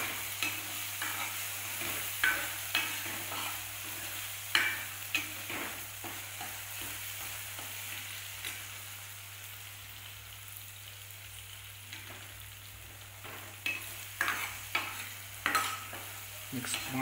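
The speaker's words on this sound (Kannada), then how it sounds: "ಒಂದು ಸಲ ಫ್ರೈ ಚೆನ್ನಾಗಿ ಮಿಕ್ಸ್ ಮಾಡ್ಕೊಳ್ಳಿ ಅದನ್ನು" Cucumber dal being stirred and fried in a pan, with a spoon scraping in repeated irregular strokes over a steady low sizzle, close and moderately loud, with no voices.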